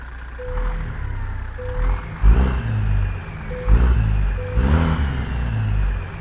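A tuned 800 hp Cat C16 diesel in a Peterbilt 389 with 8-inch straight pipes, from a truck game sound mod, cranks and idles in deep rumbling pulses, with short electronic beeps and a few throttle blips.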